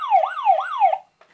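A wailing, siren-like buzzer tone sweeps up and down three times, loud and electronic, then cuts off into a short clatter.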